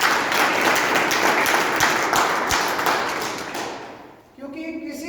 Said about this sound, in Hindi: एक बार मैं चाहता हूं कि सर के लिए एक बार ताली हो